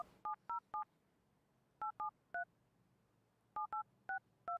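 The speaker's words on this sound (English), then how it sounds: "So let's dial them up right now." Touch-tone telephone keypad dialing a number: three groups of clean, evenly spaced beeps, three then three then five, each short and distinct against quiet room hiss, with no talking.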